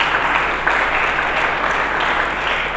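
Church congregation applauding together, a steady dense wash of clapping that holds evenly for a few seconds with no voices over it.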